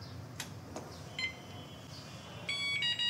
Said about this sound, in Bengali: এই যে টিটিটির সাউন্ডটা করলে তার মানে আমার গাড়িটা এখন ফুল রেডি